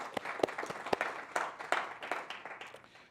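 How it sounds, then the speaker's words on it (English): Lecture audience clapping in a hall, a scattered, moderately quiet round of individual claps with distinct sharp hand strikes rather than a dense roar, continuing for a few seconds. "that's actually worth a round of applause."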